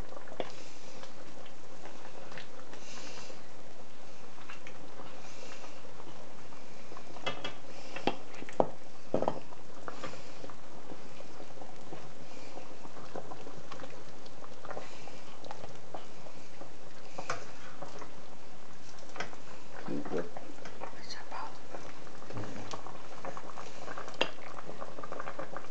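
A pot of pochero stew boils steadily on a kitchen stove, a continuous bubbling and simmering hiss with occasional light clinks of utensils, close and unbroken throughout.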